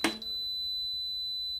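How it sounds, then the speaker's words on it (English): A handheld pipe and cable detector sounds one long, steady high-pitched beep held close to metal, starting after a brief click and lasting well over a second. "when this is next to something metal, the light comes on permanently and it beeps with a long beep"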